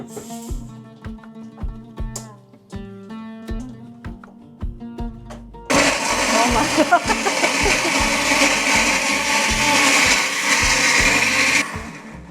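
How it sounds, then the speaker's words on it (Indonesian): Shallots and garlic are pureed in a kitchen blender. After several seconds of voices and clatter, the motor kicks in with a loud, dense whir that holds steady for about six seconds, then cuts off. "sekarang kita ngeblend bawang merah bawang putihnya"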